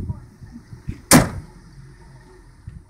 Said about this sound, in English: If I close the hood.